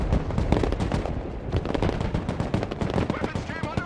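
Auto grenade launcher fire in the Broken Arrow video game, heard as dense, rapid, overlapping bursts of loud gunfire and explosions that run continuously with battle noise throughout.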